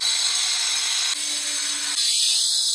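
An angle grinder cuts around the edge of a kitchen sink, a loud continuous high whine that shifts in pitch as the disc bites, with no voices.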